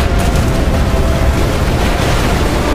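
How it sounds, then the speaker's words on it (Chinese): A loud, sustained explosion rumbles through a Korean nuclear-disaster film, a dense roar that fills nearly three seconds before cutting off abruptly. "随着一声巨响，每个人都朝爆炸声看去"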